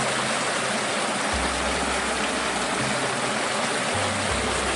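A clear river rushes over a rock bank in the Victorian High Country, a steady, close, full-bodied wash of flowing water with occasional low rumbles underneath.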